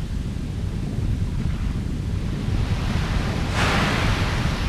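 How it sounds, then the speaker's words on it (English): A huge water explosion in the video game Baten Kaitos: a deep, continuous rumbling roar like crashing surf, with a sudden hissing splash swelling in near the end. "And huge water explosion!"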